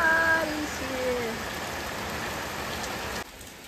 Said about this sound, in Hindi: अच्छा खासा बारिश हो रही है, देखो मेरा पत्ता गोभी को भी पानी मिल गया अभी।